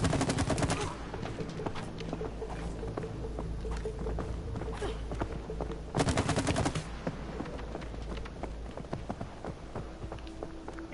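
Rapid gunfire from the video game It Takes Two, dense bursts running almost throughout with a sharper loud volley near the start and another midway, steady and close.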